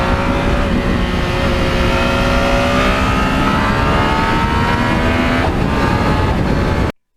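A Yamaha MT-09 motorcycle with a quick shifter accelerates hard through the gears, its engine note climbing and resetting in a loud, continuous roar with wind noise, close up, before cutting off at the end.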